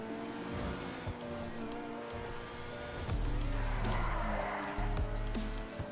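A Grotti Bestia GTS sports car in GTA Online drives on winding roads with a steady engine drone that swells louder midway, along with brief tire squeals as the car oversteers.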